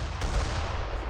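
Mortars and howitzers firing in the real-time strategy game Age of Empires 3, a dense, continuous rumble of booming artillery and gunfire blasts close up with no talk.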